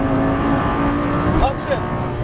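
A Lamborghini engine at full throttle on a race track, a steady loud roar with a faint rising tone, while a voice talks over it near the end.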